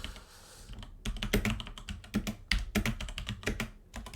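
Fingers type on a computer keyboard in quick, uneven bursts of clicking keystrokes, close and clear after a brief quiet start.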